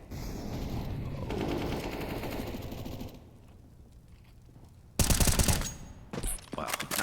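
Gunfire from the video game CS:GO, played on the Mirage map during a professional match, sounds as bursts of shots amid game ambience, loudest in sharp cracks toward the end.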